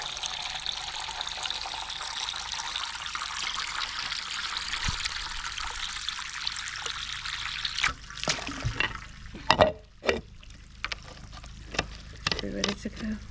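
Water pours steadily into a garden pool pump to prime it, a continuous splashing stream that breaks into irregular gurgles and drips toward the end.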